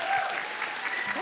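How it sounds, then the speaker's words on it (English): An audience claps after a keynote talk at a women-in-entrepreneurship event: a full, continuous round of applause with a faint voice showing briefly underneath near the end. "let's give a round of applause for Georgia Grace"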